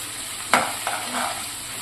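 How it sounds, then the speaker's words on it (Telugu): Ginger garlic paste drops into hot oil in a pan and sizzles briefly as it is stirred, with a sharp hiss followed by a softer scrape, close and quiet. "ఇందులోకి ఫ్రెష్గా దంచుకున్న అల్లం పేస్ట్, అల్లం వెల్లుల్లి 2 వేసేసుకొని కలిపేసుకోండి."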